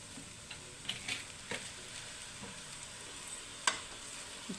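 Chicken noodles tossed with two ladles in a hot frying pan over high flame, giving soft scraping and clinking strokes at an irregular pace over a steady low sizzle.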